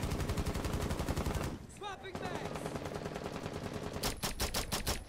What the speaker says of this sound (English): I'm just shooting where they're shooting.